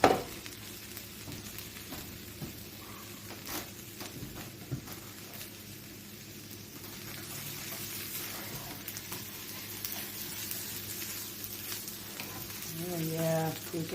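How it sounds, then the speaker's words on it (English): Food sizzles and crackles steadily in a frying pan, with soft scraping and clinking as it is stirred, close and moderately loud throughout. "So I'm going to give these a stir."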